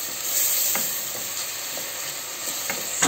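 Chopped onions fry in oil in a pan on a stove, a steady broadband sizzle with occasional soft clicks of stirring, fairly loud and continuous with no speech.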